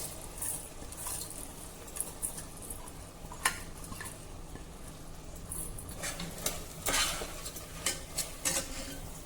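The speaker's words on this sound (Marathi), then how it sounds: "धुवून ठेवलेले तांदूळ घालूया।" Washed rice stirred into sizzling masala with coriander in a pan, a steady low sizzle broken by repeated scraping and clinking of a spoon against the metal pot.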